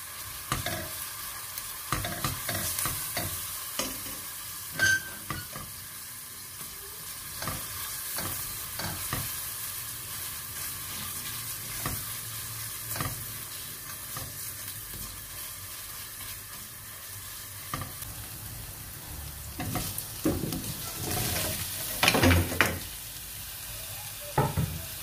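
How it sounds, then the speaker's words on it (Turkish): Onions frying in olive oil in a pot at home, with a steady soft sizzle broken by repeated scraping and stirring clatter, close by and without talk. "Soğanları attım tencereye. Şimdi biraz şöyle zeytinyağı gezdirelim."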